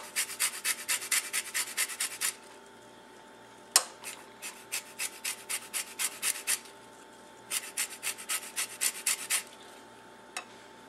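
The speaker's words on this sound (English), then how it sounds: "I'd recommend doing this with like a handheld grater like this and just kind of run it across." Lemon peel is rubbed across a handheld grater in quick, rhythmic rasping strokes. The strokes come in bursts separated by short pauses, close and fairly quiet, with no talking.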